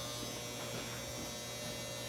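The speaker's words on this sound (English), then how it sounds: "I got to turn this stupid dryer off" A dryer running with a steady electric hum and buzz, constant and fairly quiet throughout with no change in level and no voices.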